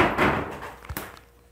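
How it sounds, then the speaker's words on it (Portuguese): A door opens and thumps as someone walks into a room, with a dull bump, a sharper knock a moment later, then quieting residual noise, close and fairly loud. "Meu filho entrou aqui, barulho na porta"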